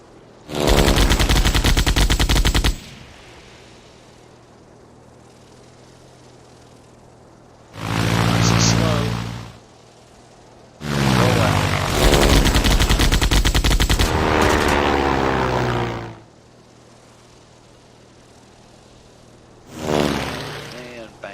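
Bursts of machine gun fire from WWI biplanes in the flight game Sid Meier's Ace Patrol, four loud sustained volleys of rapid rattling shots separated by quieter stretches with a low engine drone.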